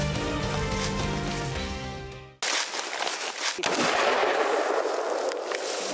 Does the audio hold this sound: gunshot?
yes